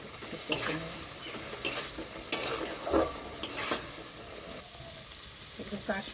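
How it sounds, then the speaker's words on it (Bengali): Potatoes and pointed gourd fry in oil with Kashmiri chilli, sizzling steadily while a spoon repeatedly scrapes and knocks against the pan during stirring. "আলুগুলো দিয়ে দিচ্ছি, আলুগুলো কষিয়ে নেব ভালো করে, কষে নেব।"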